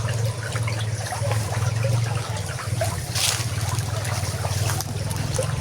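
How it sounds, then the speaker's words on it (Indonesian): Water trickles and burbles steadily along the Sambong river near Gunung Kendil, Rembang, a continuous close wash with a low hum beneath and no talking. "Ini sungainya, Sungai Sambong."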